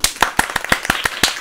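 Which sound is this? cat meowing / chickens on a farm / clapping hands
clapping hands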